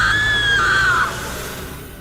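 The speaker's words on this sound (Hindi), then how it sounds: "वो जोर से चिल्लाए लगली" A woman's loud, sustained scream cuts through a horror story scene, a single shrill cry that rises and then bends downward before fading into a lingering background hum.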